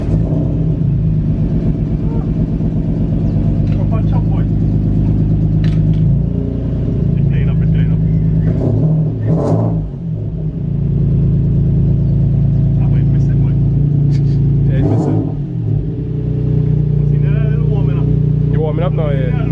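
A car engine idles roughly and unevenly as it warms up, a loud low rumble with a misfire-like stumble and occasional surges, while people talk over it.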